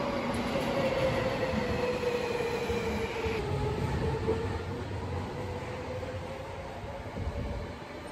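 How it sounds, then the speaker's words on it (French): Riding a metro subway train, with a loud, continuous rumble and rail roar throughout, wheels whining and squealing faintly, and no voices. "je suis descendu du métro"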